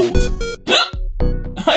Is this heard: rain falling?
no